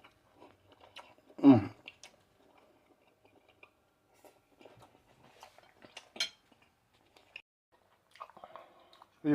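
Someone chews a bite of air-fried pot roast with soft, moist mouth sounds, and near the start a single loud clink of cutlery on a dish stands out. Other faint clicks and small noises come in quiet spells.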